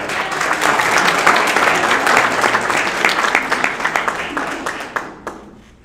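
Graduation audience at a Pitt County ceremony applauding, a dense, sustained wash of many hands clapping at close range that thins and fades out near the end.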